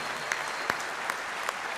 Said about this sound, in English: How about a round of applause for North One TV